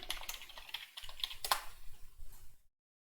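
Rapid keystrokes on a computer keyboard while a password is entered, a quick run of close clicks lasting a couple of seconds before stopping.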